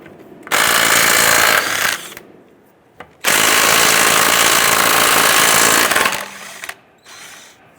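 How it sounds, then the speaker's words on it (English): An impact wrench loosens and removes lug nuts with a 21mm socket on a 2005-2010 Chrysler 300, in loud close bursts with short gaps between, no talking. "Using our 21mm socket, we're going to go ahead and loosen and remove our lug nuts."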